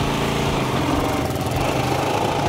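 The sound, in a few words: new motorbike engine starting with automatic choke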